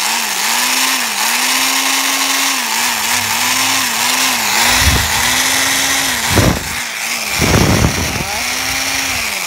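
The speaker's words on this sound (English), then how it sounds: "antique drill here is ready to go" An antique electric drill runs loud and close, its motor whine wavering in pitch with several brief bursts of grinding or cutting noise breaking through the steady drone.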